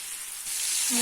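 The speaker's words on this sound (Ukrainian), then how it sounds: "обжарюємо її до готовності, до золотистої корочки" Hake fillets frying in a pan, a steady bright sizzle that swells slightly louder toward the end.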